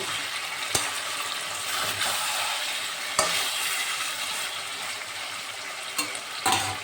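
Stirring freshly ground garam masala into a village-style curry of country chicken in a pan: a steady close sizzle with soft scraping, and a few sharp spoon clicks against the pan.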